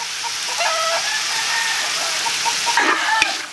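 Chickens cluck loudly and continuously over a dense, hissing background, with a busy noisy texture that stays close and steady and has no talk over it.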